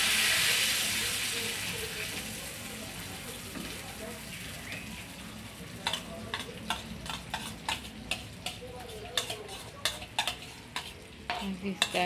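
Blended beans with onion sizzle and fry in a pan, a steady hiss that turns to repeated scraping and clacking stirring strokes in the second half, heard up close with faint talk in the background.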